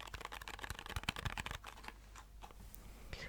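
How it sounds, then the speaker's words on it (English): Quick crisp flutters of a deck of cards riffle-shuffled together, a rapid burst of clicks that tapers into softer shuffling. "Let's give it some riffle shuffles, riffle shuffles, riffle shuffles."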